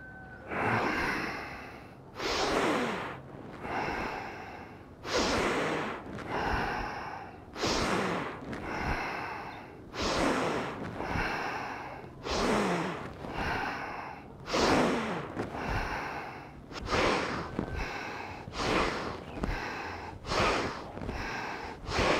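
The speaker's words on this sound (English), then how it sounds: "It's a strong breath in and a strong breath out." Strong, forceful yoga breaths in and out repeated in a steady rhythm, each push of air loud and close, about a dozen and a half cycles with no talking.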